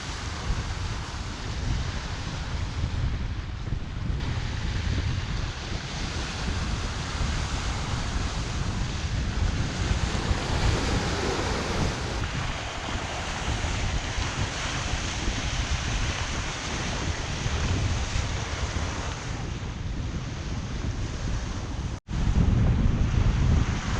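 Strong wind roars over waves while a Hallberg-Rassy 54 sails against the tide on the Chesapeake, a steady broadband rush of gusts and surf buffeting the microphone with no talk, broken by one brief dropout near the end.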